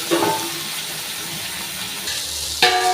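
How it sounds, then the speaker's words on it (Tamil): Shallots and tomato frying in a pan for a chutney, giving a steady broadband sizzle throughout with a brief clatter near the start and a louder burst near the end, as if stirred, with no talking. "நல்லா வறுபட்டுருச்சு ஒரு சின்ன தக்காளி எடுத்துருக்கேன் அதையும் நல்லா மிக்ஸ் பண்ணிடலாம்"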